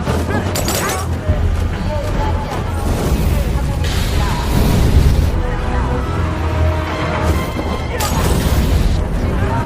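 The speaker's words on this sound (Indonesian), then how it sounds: "Bom molotov pun dilempari ke arah polisi." Molotov cocktails are hurled toward police during a riot scene in a film. There are dense crashing blasts and smashing bursts over a constant loud roar of chaos, with voices mixed in beneath the din.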